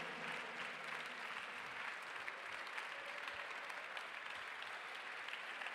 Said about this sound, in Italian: Un grande applauso a tutto il team di Campus Party Italia!